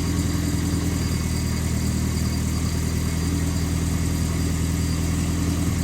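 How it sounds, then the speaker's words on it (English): A Volvo 240 car engine idles steadily at close range, a constant low rumble with no change in pitch and no voices. "Seems to be idling okay so far."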